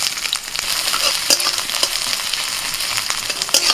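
Chopped onion frying in mustard oil in a kadai with dried and green chillies, a loud close sizzle and crackle with sharp pops and occasional stirring scrapes.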